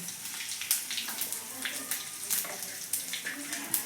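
Cumin and asafoetida crackle and sizzle in hot oil for the tempering of a Kathiyawadi kaju gathiya curry, a close, steady spitting with small irregular pops.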